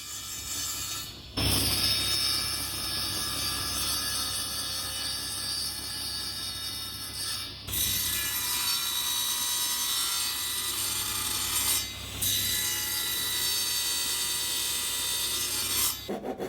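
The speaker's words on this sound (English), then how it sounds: "transferred that angle to the miter gauge on the table saw to cut the end profile on each of the side pieces" A table saw cuts the end profile on wooden side pieces for a bath caddy, a loud, steady, bright whine and rasp sustained for long stretches with brief breaks between cuts, close up and with nobody talking.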